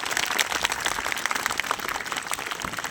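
A crowd at a school Tulsi puja celebration breaks into a steady, dense burst of clapping that holds for about three seconds with no voices over it.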